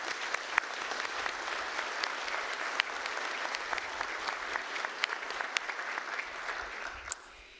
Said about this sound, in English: Please join me in a round of applause to recognize everybody.